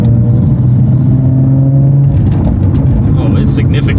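A BMW engine fitted with an SSR downpipe holds a loud, steady drone close by, then breaks into rougher revving intake noise with clattering and whooshing bursts. Voices talk over the engine.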